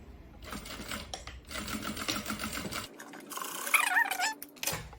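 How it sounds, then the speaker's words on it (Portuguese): A sewing machine stitches crib bumper fabric in fast, steady mechanical chatter, close by, pausing briefly before another short run. "Agora, a gente vai vir aqui na máquina e vamos costurar isso aqui."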